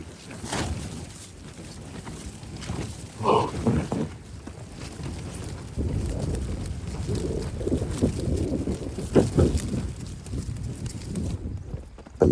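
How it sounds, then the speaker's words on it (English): Strong wind buffets the microphone in continuous low roaring gusts, rising and falling without a break. "that's really windy."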